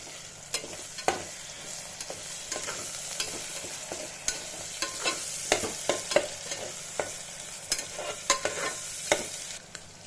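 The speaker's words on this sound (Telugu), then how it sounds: "ఇది కాసేపు నూనెలో వేయాలి. ఇప్పుడు టమాటా వేసుకోవాలి." Tomatoes frying in oil in a pan for a country chicken curry, a steady sizzle broken by repeated sharp scrapes and taps of a spoon being stirred through it, close and without voices.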